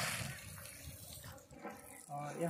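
Natural water spring gushing in an open field, a steady broadband rush of flowing water that continues throughout, partly masked by speech and other activity nearby.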